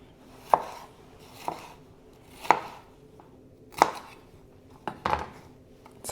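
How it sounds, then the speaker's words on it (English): A knife chops a red bell pepper on a board in slow, steady strokes, about six distinct thunks spaced roughly a second apart, close and clear. "You can cut them larger or smaller, however you like."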